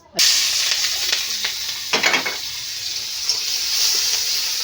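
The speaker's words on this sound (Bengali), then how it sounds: "তেল কিন্তু গরমও হয়ে গেছে গন্ধ বেরিয়েছে এখন এই যে দিয়ে দেবো রসুন বাটা" Crushed garlic drops into hot oil in a wok and sizzles at once, a loud, bright, continuous frying hiss close up with a few stirring scrapes and small pops.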